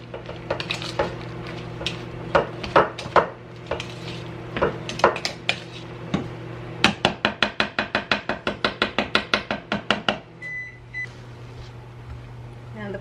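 A spoon stirs frozen or fresh blueberries into muffin batter in a bowl, giving a quick run of rhythmic clinks amid busy kitchen clatter of dishes and utensils, with a short electronic beep near the end.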